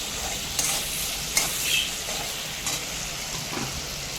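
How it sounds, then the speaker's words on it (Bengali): Tomatoes sautéing in a pan for a mustard fish curry, a loud continuous sizzle with a few scraping stirs of a spoon, close up and without talk. "টমেটোটা খুব ভালো মতো করে কষিয়ে নিচ্ছি"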